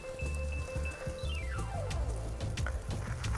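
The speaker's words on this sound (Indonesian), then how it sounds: "kita sirami dulu, kita kocor dulu" Water poured onto dry, hard garden soil where cassava is being planted behind a house, a steady splashing patter under low droning background tones, with a descending whistle-like tone passing through midway.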